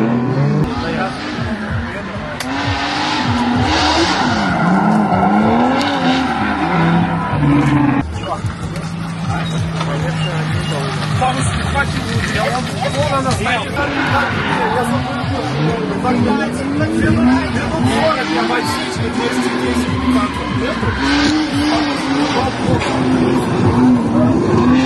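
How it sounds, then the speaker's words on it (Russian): A drift taxi car skidding around a track at a BMW festival, with continuous loud engine roar and wavering revs over the whole stretch, while people talk over the noise. "И тут же мы добрались до зоны дрифт-такси."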